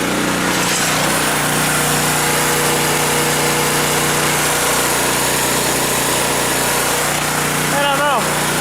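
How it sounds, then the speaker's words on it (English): A generator's small engine drones steadily and loudly throughout, with a constant hum and a rattling edge from something rubbing at the generator end, and a short squeal near the end. "it's sounding funny on the generator end"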